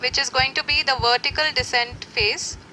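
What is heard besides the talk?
No everyday noise stands out behind the speech.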